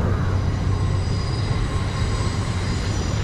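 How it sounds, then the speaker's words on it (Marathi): A Pune metro train passes near Yerawada, its steady loud rumble of wheels on rail running continuously throughout, with faint high-pitched wheel tones above the low drone. "ही आपली मेट्रो चाललेली आहे ही."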